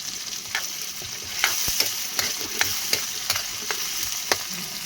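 A utensil repeatedly scrapes and stirs bagoong alamang (shrimp paste) with green and red chili in a pan over a charcoal fire, rhythmic clacks every half second over a steady sizzle, close and moderately loud, no talking.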